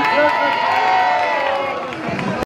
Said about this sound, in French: on les applaudit très